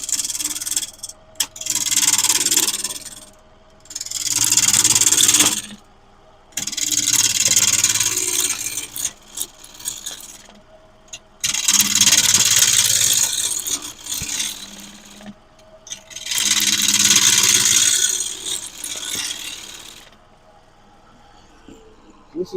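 Seasoned wood spinning on a lathe at roughly 800 RPM while a tool rubs and rasps against it, in several long bursts with short pauses between, close and fairly loud.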